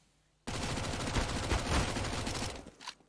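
AK rifle fire in Counter-Strike: Global Offensive cuts in suddenly after a quiet start, a loud, tight burst of rapid shots lasting about two seconds that then fades into a few softer trailing sounds.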